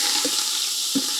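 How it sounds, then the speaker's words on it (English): Celery, green and red peppers and fresh thyme sizzle in a pan, a steady bright frying hiss with two brief stirring scrapes. "Sizzle, sizzle."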